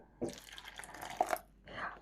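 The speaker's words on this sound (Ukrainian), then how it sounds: "Додаємо води пів склянки" Half a glass of water poured into a blender holding buckwheat, heard as a quiet trickling splash with a few drip-like plinks, close but soft, lasting about a second and a half before a short fading rush.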